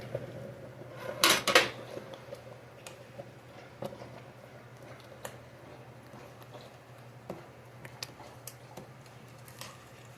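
Butter for a potato and corn chowder dropped into a cooking pot, a brief clatter and soft thud near the start, followed by faint scattered kitchen ticks over a steady low hum.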